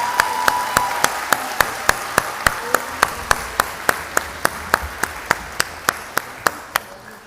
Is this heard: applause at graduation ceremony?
yes